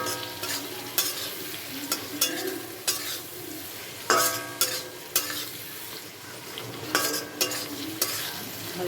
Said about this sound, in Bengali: এখন ভেজে রাখা আলুটা দিয়ে দেবো আর সেদ্ধ করা সয়াবিনটাও দিয়ে দেবো